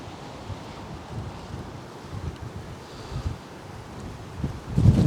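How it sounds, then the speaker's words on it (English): Gusty wind buffeting the microphone on a stormy night at the waterfront in Port Townsend, low rumbling surges that swell and drop, strongest near the end, with no talking. "We just need a little less wind."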